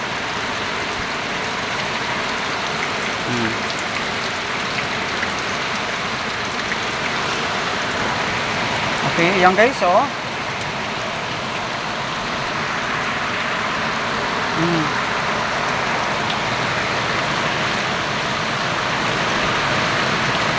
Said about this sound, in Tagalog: Kagabi medyo mahina po yung ulan, pero ngayong oras na ito, ayan, lumakas na uli.